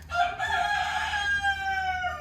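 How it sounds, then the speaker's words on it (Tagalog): A rooster crows loudly and close by, one long drawn-out call with a harsh, rising then falling tone, no voices. "Ingay ng manok."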